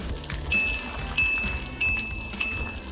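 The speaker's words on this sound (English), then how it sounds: "the bell that cyclists make" Four bright bicycle bell rings spaced about two-thirds of a second apart, each a sharp metallic ding with a lingering tone, close and clear over low outdoor background noise on a walking path along a former tramway.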